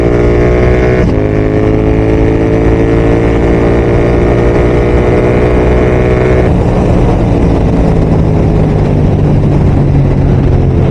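A Royal Enfield GT650 twin accelerates hard, its engine tone climbing steadily up close, then the pitch drops and settles lower on a gear change partway through while road and wind noise continue.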